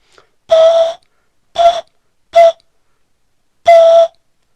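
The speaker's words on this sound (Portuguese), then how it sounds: "Quanto mais água colocar, é simples, aí vai, o som vai ficando mais fininho, quer dizer, é mais agudo." Four clear ringing tones from a glass holding water being struck, each a short sustained note with separate pauses between, loud and isolated with no talk.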